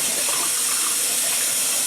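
Tap water runs steadily into a pot for cooking rice, a continuous close hiss of flowing water with no voices.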